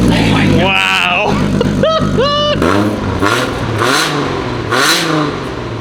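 A four-door Toyota Supra's engine on a dyno with an exhaust restrictor fitted blips and revs in loud, close rising and falling sweeps, several short pulls one after another.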